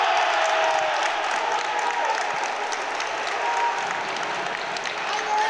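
Indoor arena crowd applauding and cheering after a goal in a Varna City versus Levski match, a loud continuous roar of clapping and shouting that holds steady throughout.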